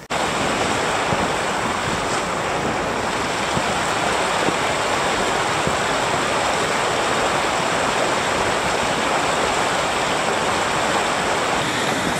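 Mountain stream rushing steadily along a snowy hiking trail near the Sapporo-dake Hōtaki trailhead outside Sapporo, a continuous loud broadband wash of water close to the microphone, with faint wind noise and no talking.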